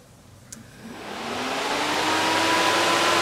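A 16-inch electric cooling fan, fitted to a 4BT-swapped Ford F150, spins up from quiet to a steady loud rushing whoosh of air with a faint rising whine, close by and without voices.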